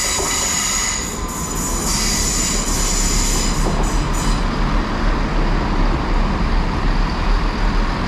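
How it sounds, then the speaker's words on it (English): A Great Western Railway passenger train arriving at Bath Spa station, its loud rolling rumble carrying high wheel squeal and steady track noise close by, with no voices. "arriving next is the 14:58 Great Western Railway service to Salisbury"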